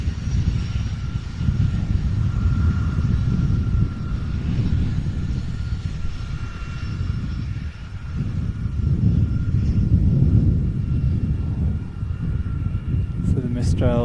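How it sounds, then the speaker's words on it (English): A Canadair Sabre jet arriving at an air show makes a steady, distant rumbling roar that rises and falls slightly, with commentators talking over it throughout and a brief high whine near the end. "So the Mistral Sabre arriving, sneaking in."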